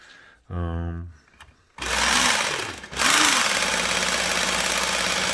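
A belt sharpening machine spins up and runs at a fair speed, giving a loud, close, continuous grinding whir with a brief dip partway through. A short voice or whine comes before it.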